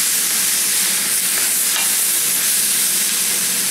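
Pork and bok choy being stir-fried in a hot pan for spicy Chinese hatch pepper pork, giving a loud, continuous sizzle with scraping and tossing noises, close up and with no voices.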